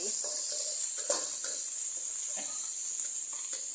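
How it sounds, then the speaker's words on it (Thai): Red curry paste sizzling in hot oil in a wok while being stirred, a steady bright hiss throughout with scraping stir sounds on top, close and continuous. "ตั้งกระทะให้ร้อน น้ำมันให้ร้อน ใส่พริกแกง คนคนคนไปเลย"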